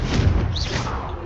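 A Confringo fire spell blasts and strikes its target in Hogwarts Legacy, producing a dense, rumbling burst of noise that holds steady through the moment without a clear decay.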